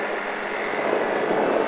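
A motorcycle on a race track at LFG accelerates out of a corner, a steady loud engine roar held throughout, close and continuous with no talk.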